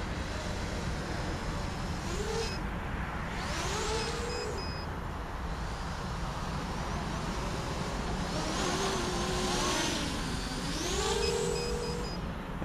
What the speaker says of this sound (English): it seems like the rear motors are revving more than the front ones when you open the throttle